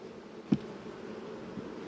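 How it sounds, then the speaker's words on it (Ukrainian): Honey bees clustered on hive frames give a faint, steady buzzing hum throughout, broken once near the start by a single soft knock. "Є бджола, висить навіть на рамках, висить, бачите?"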